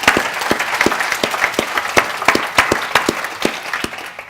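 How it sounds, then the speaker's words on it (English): Conference audience giving a quick round of applause at a business event, many hands clapping in a steady, fairly close patter that lasts several seconds with no talking over it. "Quick round of applause for Jane."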